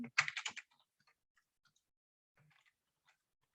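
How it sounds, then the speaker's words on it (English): A computer keyboard is typed on during an online class: a quick burst of several clicky keystrokes at the start, then sparse, faint taps scattered through near silence. "I'm typing the question for all of you"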